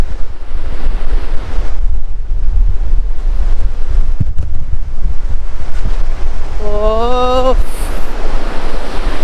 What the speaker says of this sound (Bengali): বিচের হাওয়াটা দুর্দান্ত লাগে